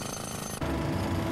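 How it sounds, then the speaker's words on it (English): Jackhammer chipping out deteriorated concrete pavement during a partial-depth repair, a rapid continuous pounding rattle that shifts to a heavier, louder hammering partway through. "The deteriorated concrete can now be removed by sawing and chipping"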